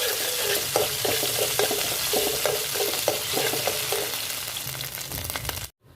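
Green chilli, onion and ginger garlic paste fry in hot oil for a chicken keema, with a steady sizzle and the rhythmic scrape of a spoon stirring the pan, ending in a sudden cutoff.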